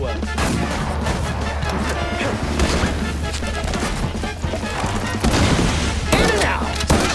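Bombs exploding in the Mouse P.I. for Hire video game, a dense run of loud booming blasts and crashes layered over a constant low game soundtrack.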